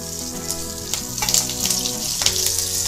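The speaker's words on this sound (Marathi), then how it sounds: "सगळं आता थोडंसं मंद आचेवर 2 मिनिटं परतून घ्यायचं।" Curry leaves sizzling in a pan over low heat while cooking Maharashtrian poha, a steady close frying hiss with small pops and crackles throughout.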